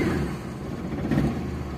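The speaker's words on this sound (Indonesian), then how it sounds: "Nah, ini mesin sudah menyala." A 1995 Daihatsu Espass car engine runs steadily after starting, a low rumbling idle with a slight rise in revs partway through, close and continuous with no talking.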